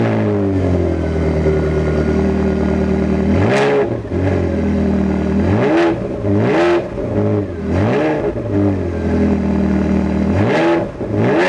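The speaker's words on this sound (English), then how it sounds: "This has a Capristo Stage 3 exhaust, so it sounds particularly loud." A Ferrari 360 fitted with a Capristo Stage 3 exhaust idles loudly, then is revved in repeated sharp blips that rise and fall, close and unaccompanied.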